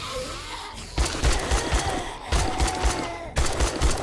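A shotgun fires in the survival video game 7 Days to Die in three bursts of rapid, punchy blasts separated by short pauses, loud and close, with no talk over them.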